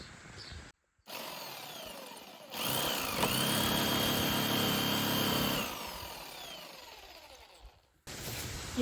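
A newly bought bladed power tool cuts wood while a budget summer shower is built by hand, giving a loud, steady buzzing whine for about three seconds between quieter handling noises.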